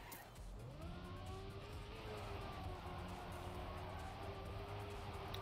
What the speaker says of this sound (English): This was an absolutely horrendous drift.